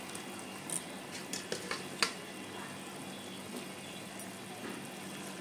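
Fried chicken pakoras dropped into boiling chili sauce, a soft steady sizzle and bubbling with a few light clinks and stirring taps, faint and close, no talking.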